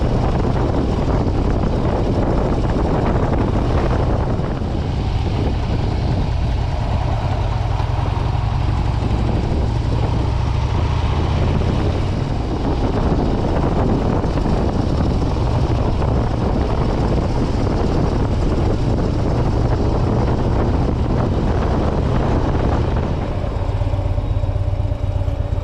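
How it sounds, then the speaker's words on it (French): Loud, steady roar of rushing wind buffeting the microphone on a fast-moving motorcycle, with a low engine drone underneath throughout and no voices. "on n'entend plus du tout la moto et seulement du vent"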